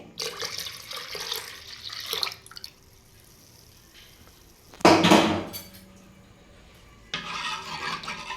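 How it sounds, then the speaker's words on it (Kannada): Cloth-strained liquid is poured into barley milk in a kitchen, with three separate splashing bursts at the start, middle and end and quiet pauses between them. "ಈಗ ಬಾರ್ಲಿ ಹಾಲಿಗೆ ಹಾಕ್ತಾಯಿದ್ದೀನಿ"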